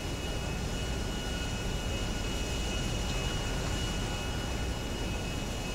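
A plane's engine roars steadily as it takes off in the video game GTA 5, a dense, constant drone with no pauses and no speech, staying loud and close throughout.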